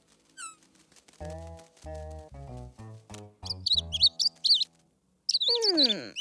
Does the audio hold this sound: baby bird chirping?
yes